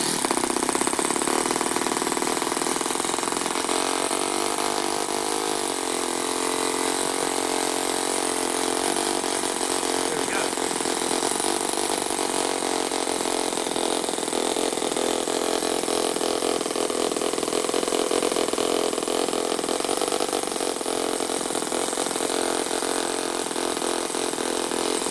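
A small four-stroke engine in an RC buggy runs steadily at a high, buzzy idle, close and continuous with no talking.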